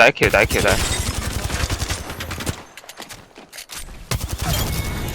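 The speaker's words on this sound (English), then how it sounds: "The enemies are shooting at me." Enemy gunfire in the video game Apex Legends, rapid automatic bursts and scattered shots, loud and close, pausing briefly mid-clip before resuming, with a voice speaking over it.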